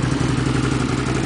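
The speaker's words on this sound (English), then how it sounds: "The exhaust is the best part of this machine" A 2013 Can-Am Renegade XXC 1000 ATV engine rumbles steadily through its exhaust, a loud, close, throbbing idle with a rough clattering texture and no talking.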